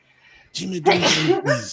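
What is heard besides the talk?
sneeze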